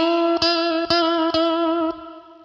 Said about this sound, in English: he holds it there, picks it 3 more times, but puts a lot of vibrato on it